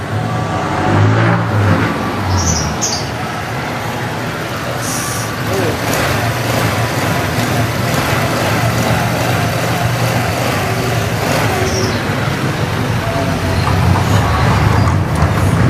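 A Honda Click V3 scooter engine idles steadily after an engine refresh, a loud continuous running drone heard close up throughout, with brief higher clatters and some background noise.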